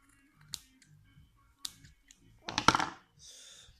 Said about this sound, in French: Je coupe mon coton.